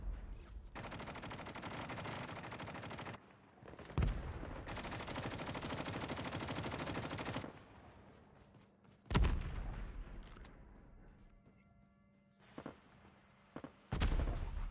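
Call of Duty battle royale gunfire rattles in long sustained bursts, some distant and muffled, broken by sharp louder single reports and pauses of quieter ambience.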